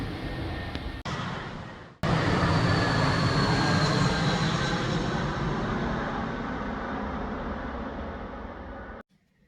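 A loud, steady roar of a jet aircraft passing overhead beneath an airport flight path, swelling in after a brief cut and holding broadband rumble for several seconds before dropping off abruptly.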